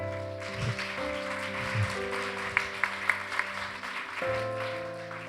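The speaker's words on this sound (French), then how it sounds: "on peut l'applaudir" A church congregation applauds during a Sunday service, a soft continuous patter of many hands mixed with sustained music tones and a few sharp taps standing out midway.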